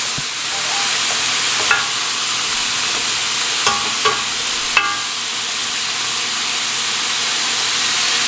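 Ground beef and vegetables sautéing in a hot pan for a cheesesteak filling, with a loud continuous sizzle and hiss broken by a few scrapes and clinks of a utensil stirring.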